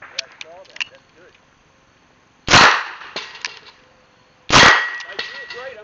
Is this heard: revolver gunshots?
yes